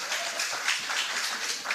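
At a young pharmacists' conference in Lagos, an audience gives a round of applause, a continuous, fairly loud clatter of many hands with slight swells and no speech over it.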